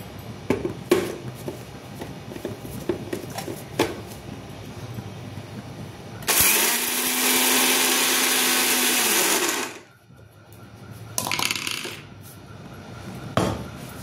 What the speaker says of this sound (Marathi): मिक्सरमध्ये एकच असं मी चक्कर मारते की झालं ते